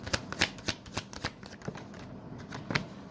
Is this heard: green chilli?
no